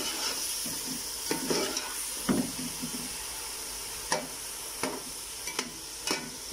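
Chicken pieces sizzle steadily in hot oil inside a pot, with a spoon or spatula scraping and stirring at irregular moments, producing clattering bursts over the continuous frying hiss.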